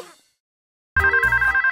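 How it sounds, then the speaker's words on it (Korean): A cartoon telephone rings in a children's animated show: after a near-silent pause, a bright, loud electronic trill starts up and repeats in quick, even pulses close to the ear. "따르릉! 핑크퐁이 친구들에게 전화를 해요."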